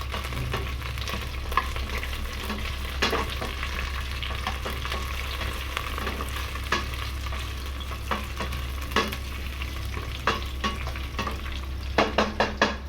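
Chicken curry fries in a pot with lemongrass, pandan and kaffir lime leaves, a constant sizzle under repeated scraping strokes of a spoon, with a few sharper clinks near the end.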